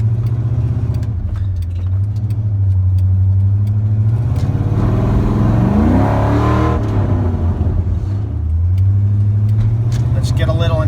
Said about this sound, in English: this truck is pretty loud.